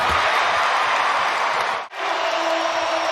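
A basketball arena crowd at a Pistons home game against the Pacers cheers loudly and steadily, a dense roar of voices that briefly dips and then swells again.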